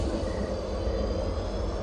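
A night train runs on the rails as a story sound effect, a continuous low rumble and clatter of wheels that holds steady and fairly loud, no voices.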